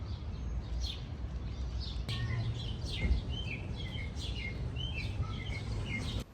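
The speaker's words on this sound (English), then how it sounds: "Do you hear those birds chirping right now?" Several birds chirping and tweeting outdoors, a scatter of quick high calls at moderate distance over a low steady background rumble, with no one talking.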